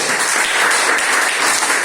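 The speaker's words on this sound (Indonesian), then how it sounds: "tepuk tangan untuk Brian." Classroom applause during a lesson, a dense, continuous patter of many students clapping at once, loud and steady from start to end, with no voices on top.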